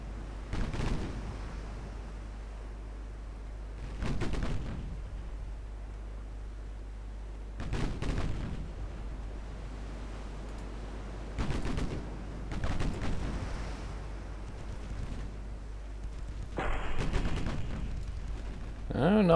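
Naval guns firing in the warship battle game Ultimate Admiral Dreadnoughts: heavy, spaced booms at intervals of a few seconds over a steady low hum, moderately loud, with no talk.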